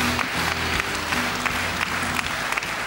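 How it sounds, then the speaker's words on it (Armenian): A studio audience claps steadily for a guest on a club show, dense applause that holds throughout with a faint low hum underneath. "ծափարեք"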